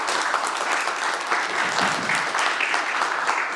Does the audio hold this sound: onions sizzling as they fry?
no